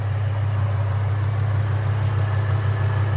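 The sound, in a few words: supercharged Ford Mustang GT 5.0L V8 exhaust, Valvetronic Designs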